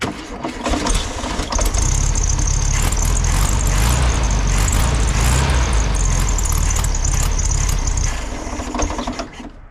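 A 1970 Volkswagen Beetle engine cranks briefly, then catches and runs with a loud, steady idle close by for several seconds before the sound tapers off near the end.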